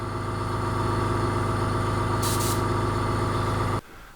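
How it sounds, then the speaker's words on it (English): A small Fengda FD-186 airbrush compressor motor hums and drones steadily, close and fairly loud, with a brief hiss of air partway through before it cuts off abruptly. "the compressor's kicked in now"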